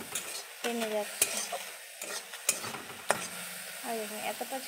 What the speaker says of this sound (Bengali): এখানে আমরা ছাতুগুলো ভেজে নেব